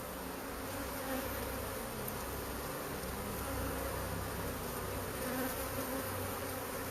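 A swarm of honeybees drones in a dense, continuous buzz at an even level throughout, close and unbroken, with no voices.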